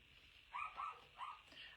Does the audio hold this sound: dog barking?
yes